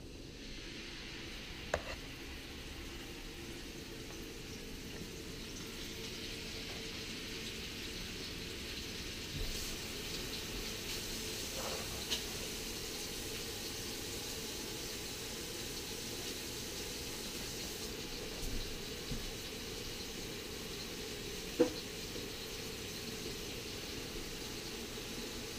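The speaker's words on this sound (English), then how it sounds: "I'm just going to sit there and sear for a minute and a half, maybe 2, so it gets nice and golden brown." Pork chops sear in hot oil in a pan, giving a steady, faint sizzling hiss throughout, broken now and then by small pops and crackles.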